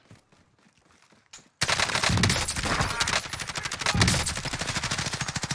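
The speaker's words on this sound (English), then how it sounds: "I just got shot at from the house." Warzone gameplay with a player taking fire: after a quiet moment, loud rapid automatic gunfire erupts and continues in dense bursts with rhythmic clattering shots to the end.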